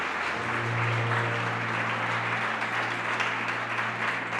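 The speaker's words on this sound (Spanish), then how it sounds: "Dele, aplauda al Señor." A church congregation applauds during a sermon, a dense sustained wash of many hands clapping together. A low steady musical tone from an instrument runs beneath it.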